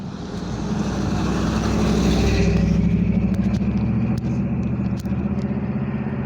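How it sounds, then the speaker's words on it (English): A pickup truck in traffic drives past with a loud rumbling engine that swells and then fades as it moves away, heard outdoors with no talk. "See how fast he's going? In a questionable pickup truck?"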